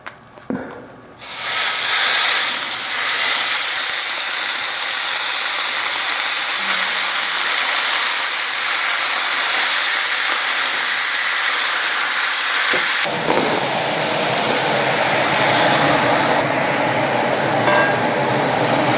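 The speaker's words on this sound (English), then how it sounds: "Now we want to go saute the meat." Meat hits a hot pan and sautés with a loud, steady sizzle. After a brief quiet start, the sizzle rises sharply, stays broad and hissing throughout, and surges again partway through.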